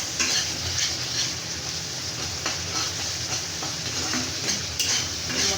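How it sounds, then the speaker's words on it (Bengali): Ground spices with onion are sautéed in a pan, giving a loud, continuous sizzle close up with steady scraping and stirring of a spatula against the metal, and no voices. "মশলাগুলো ভালো করে কষানো হোক"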